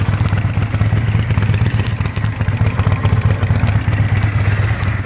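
A 2005 Kawasaki Vulcan 800 trike with its factory exhaust idles up close, a loud, steady, fairly mild throb with slight clatter throughout.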